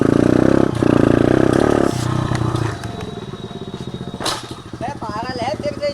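A dirt bike engine revs hard and loud up close, harsh rattling bursts that ease into a rougher idle, with voices talking over it.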